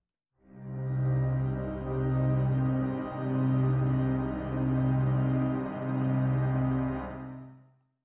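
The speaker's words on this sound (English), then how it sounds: "I've got a really basic patch using a wavetable with some LFO modulating the wave" Wavetable synth patch built in UVI Falcon, with an LFO modulating the wave, FM and a multi-granular engine, playing a sustained droning chord that swells in four slow, rounded pulses, loud and alone.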